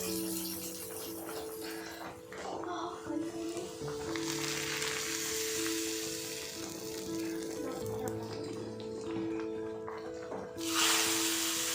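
Red chillies and garlic sauté in a pan for a dal and greens dish, giving a faint, steady sizzling hiss with light stirring and a brief louder hiss near the end.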